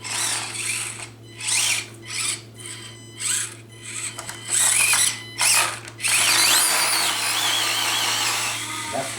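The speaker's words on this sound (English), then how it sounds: "the motor on the Axial is a lot louder" An Axial SCX24 RC crawler's small electric motor whines loudly in repeated bursts of a few seconds each, stopping and starting, then running longer and steadier near the end, heard close up.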